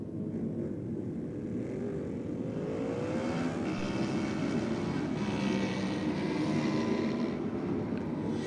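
A drag racing motorcycle speeds down the top end of the racetrack at Bike Night, a steady loud engine roar with a rising whine and no talk over it.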